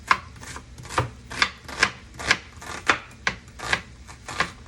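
An onion half is sliced with a knife on a cutting board, about a dozen crisp, evenly spaced chops close up and distinct, with no talking.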